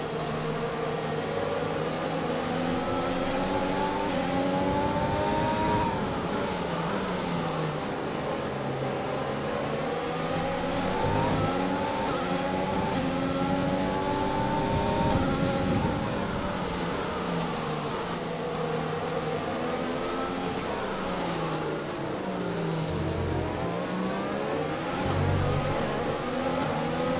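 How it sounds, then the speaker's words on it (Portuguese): F1 car engine in F1 2020 during a French Grand Prix career race, a loud, continuous high-pitched whine rising and falling with throttle and gear shifts, close throughout with no talk. "Deixa eu esquentar um pouco aqui o carro."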